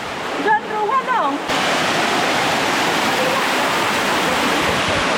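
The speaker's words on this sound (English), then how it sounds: "Nice small waterfall around here." Steady rushing of a small waterfall in Umtasor village, Meghalaya, broad and constant, with a brief burst of chirping birdsong near the start.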